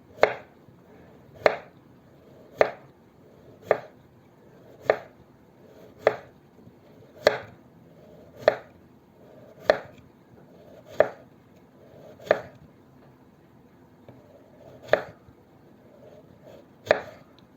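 Potatoes being sliced with a knife on a cutting board, about a dozen sharp, evenly spaced chops at a steady rhythm, close and distinct with no talking.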